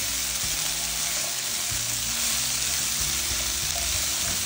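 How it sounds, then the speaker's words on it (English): Food sizzles steadily in a hot pan while being stirred, a continuous loud frying hiss with faint low scraping and knocks underneath and no talk. "And I'm just gonna stir these around like so."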